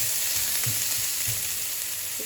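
Ginger and garlic frying with onion in a pan, a steady bright sizzle with a few soft stirring knocks, close and continuous, no voices.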